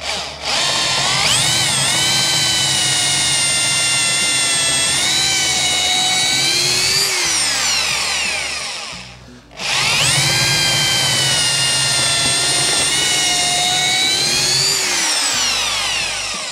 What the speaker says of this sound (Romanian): Și acum urmează să dăm găurile